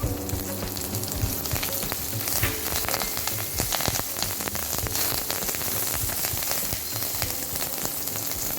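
Ginger, raisins, dry curry leaves and raw mango roast in hot oil in a pan, giving a continuous crackling sizzle with bursts of spattering and light stirring scrapes, close and steady throughout.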